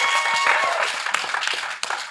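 A live audience at a theater-style event in Naples claps and cheers, a dense, steady wash of applause with scattered shouts.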